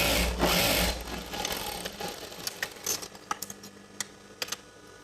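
A sewing machine stitching chudidar pant fabric in a tailoring session, running in short bursts with a rapid mechanical whirr and then sharp, irregular clicks and taps as it slows, close and clear with no talking.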